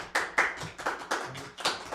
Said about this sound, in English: please clap as loud as you think is appropriate